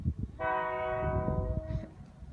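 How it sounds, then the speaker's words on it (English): A train horn blares in one long sustained blast, loud and close, over the low rumble of a train passing through a residential neighborhood. "it's decided to pass through now and honk its horn"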